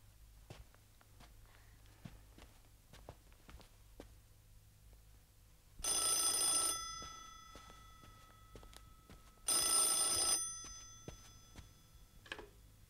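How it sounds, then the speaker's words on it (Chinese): A telephone rings in two bright electronic bursts a few seconds apart, fairly loud against a quiet room with faint footsteps and small movements around it. "祖南，委员长的电话。"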